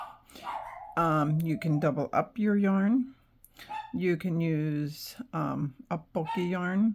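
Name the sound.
dog barking in the background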